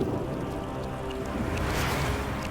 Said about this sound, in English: Until the retroact rain began to fall.